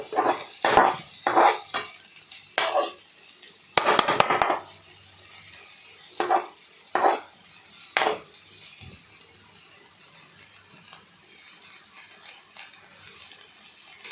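A utensil scrapes and clinks against a pan while mixed vegetables with brinjal and onion are stirred, in several short bursts of clatter with quiet gaps between.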